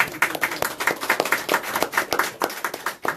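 Loose, uneven clapping from a small group, quick close handclaps rattling on for several seconds with no one speaking.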